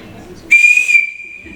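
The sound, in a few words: small whistle being blown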